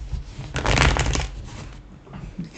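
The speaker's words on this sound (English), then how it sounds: "You can see I actually do shuffle. Or I make shuffling noises anyways." Tarot cards being shuffled by hand, a dense riffling rustle that swells in the middle and then thins out into softer handling.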